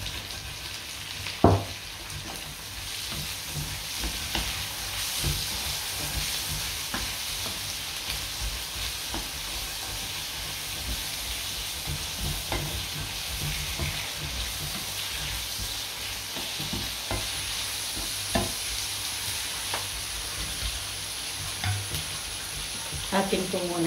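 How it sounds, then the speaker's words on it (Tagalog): Tomatoes cook in a hot pan with chicken wings, garlic and onion, giving a steady, even sizzle that runs the whole time, with occasional sharper crackles and a few clicks of a utensil. "lagayin na po natin itong ating kamatis."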